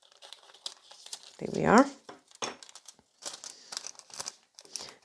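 A small piece of nail transfer foil is cut with scissors, giving a brief crinkling snip near the mic, with a person talking before and after.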